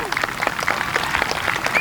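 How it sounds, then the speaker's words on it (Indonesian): Audience at an ABRI military sports competition claps in a lively, sustained burst of many hands, with an announcer's voice over the applause. "Ya, tepuk tangan yang meriah."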